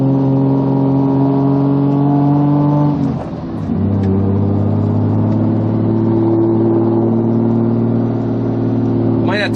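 A modified Toyota Supra's engine runs loud and steady from inside the car, dipping briefly before building again as it pulls away; a voice can be heard over the engine.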